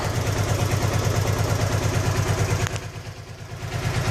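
Honda Pacific Coast PC800 motorcycle engine, already warm, idles close up with a steady low throbbing pulse and light mechanical clatter, dipping briefly before settling back to an even idle.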